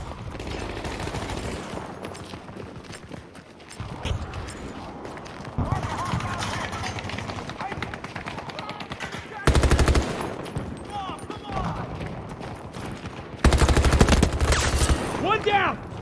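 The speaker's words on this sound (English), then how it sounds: "I'm taking fire!" Automatic gunfire rattles in Battlefield 2042 during a Conquest match on the Exodus map, with continuous battle noise and two loud, sharp bursts of nearby shooting near the middle and late in the clip.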